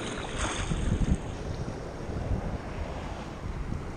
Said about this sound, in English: Know where these waves are coming from.